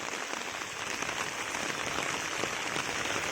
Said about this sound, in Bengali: তুমুল তুমুল আকারে বৃষ্টি আসছে